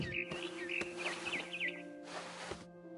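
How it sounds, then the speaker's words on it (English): A barn swallow chirping in the video game What Remains of Edith Finch, a string of quick high twittering calls in the first half, fairly faint, over a low steady ambient hum with a few soft knocks. "Then I heard chirping outside my window."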